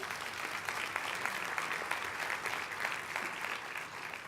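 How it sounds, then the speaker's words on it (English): A meeting audience claps during a legislative report, a faint, brief patter of hands heard from a distance. "you can clap for that"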